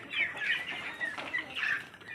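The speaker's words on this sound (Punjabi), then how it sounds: "ਇਹ ਆਪਣੇ ਵੱਡੇ ਮੁਰਗੇ ਤੇ ਚੂਚੇ" Chickens, big roosters and chicks cluck in a string of short, fairly soft bursts close by, with a few clucks grouped together and no talking.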